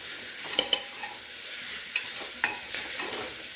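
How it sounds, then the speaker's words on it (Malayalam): Mixed vegetables and spices sautéing in ghee for vegetable pulao, a soft steady sizzle broken by a few light scraping stir strokes, fairly quiet and with no voices. "ഈ പച്ചക്കറികളെല്ലാം കൂടി ഇട്ട് ഒന്ന് നന്നായിട്ട് വഴറ്റുക"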